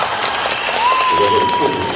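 Crowd applause at a 2010 Shenzhen concert, a thick, sustained roar of clapping with a voice or sustained tone sounding on top of it.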